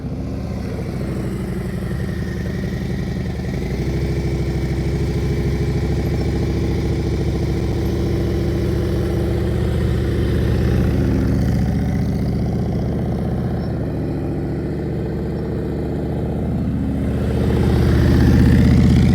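A motorcycle engine runs steadily at low revs, a deep even rumble with slight clatter, swelling a little louder near the end; no talking.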